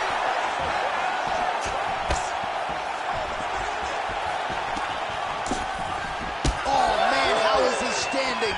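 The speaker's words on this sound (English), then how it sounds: "you hear the crowd react every time they come together" A large crowd at a fight roars continuously, swelling with excited shouts and whoops as punches and knees land, with sharp impacts and a commentator talking over the din.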